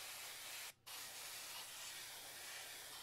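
An airbrush or spray gun hisses steadily with red paint over a miniature model, a continuous soft close spray broken by one brief pause.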